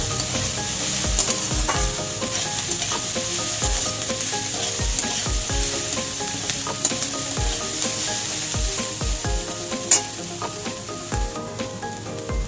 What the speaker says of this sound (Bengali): গ্যাসটা একটু জোরে দিয়ে ভাজতে হবে, কমালে হবে না